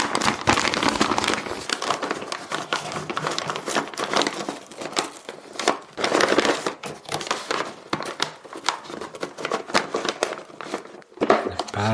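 A thin, fragile paper dust bag is handled and pushed into a Parkside 20V shop vac, giving close, irregular crinkling and rustling bursts with brief pauses and occasional sharp crackles.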